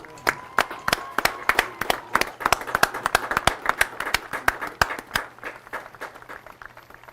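Spectators at a high school football game applaud to honor veterans, with sharp, loud individual claps close by rising above a broader spread of crowd applause, continuing steadily throughout.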